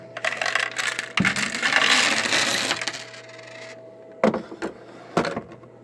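A Glory WS21 coin machine spitting out leftover nickels: a loud rattling cascade of coins clattering for a few seconds, tapering off, then two sharp isolated coin clinks near the end.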